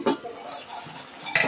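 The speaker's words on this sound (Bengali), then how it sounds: "তো দেখো এবার আমি ঢাকনাটা খুলে দেখবো" A metal lid lifted off a pot of chicken being slow-cooked in spices, village style, with a sharp clank at the start and another near the end, and soft scraping between.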